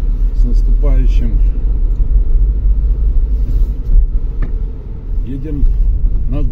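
A car drives through Minsk streets, its low, steady road rumble heard from inside the cabin while a person talks over it.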